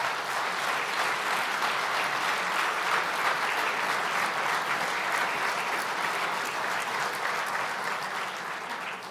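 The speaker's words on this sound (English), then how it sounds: "So we'll give them all a bit of a round of applause as well." An audience at a summit session applauds a sports panel with a dense, continuous wash of clapping that stays steady and full, then thins slightly at the end, with no voice over it.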